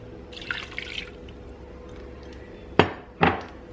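Liquid mixture poured over roast beef in an Instant Pot, then the container rinsed out: faint trickling and splashing early on, followed by two sharp, loud knocks of the container near the end.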